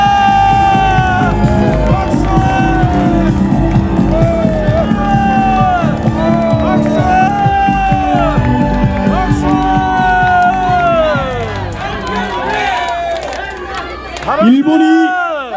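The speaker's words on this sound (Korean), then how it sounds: "힘차게 박수 부탁드립니다." A rally crowd protesting nuclear wastewater release in Mokpo cheers and applauds loudly, with whoops, shouting and babble of many voices under strong amplified music, then the roar dips before a final swell.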